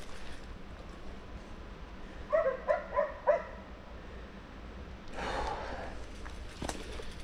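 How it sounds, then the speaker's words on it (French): Hunting dogs shut in an enclosure beside a mountain trail near Banca give four quick, evenly spaced barks. Quiet outdoor ambience and a brief rustle of movement follow. "J'ai aboyé les chiens de chasse qu'il y avait là dans l'enclos."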